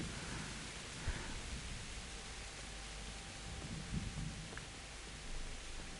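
Steady rain hissing down in the medieval game Kingdom Come: Deliverance, a broad continuous wash with a few faint low thuds mixed in.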